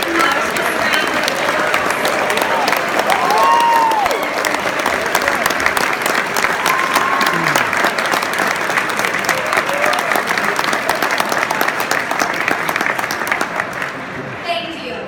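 Audience at a banquet honoring teachers bursts into loud, sustained applause, dense clapping filling the room with a few cheers and crowd voices mixed in, fading slightly at the end.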